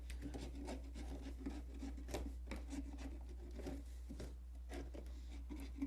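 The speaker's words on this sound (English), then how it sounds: "just using a wood chisel to kind of scrape the big pieces off" A wood chisel scrapes old wax off the inside of an oak bucket in a run of quiet, irregular rasping strokes, close up and faint, with no talking.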